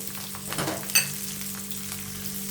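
Onion, garlic, pepper, ginger and green chilli frying in hot oil for a green chicken gravy: a steady, soft sizzle with one sharp clink of a utensil near the start, no voices.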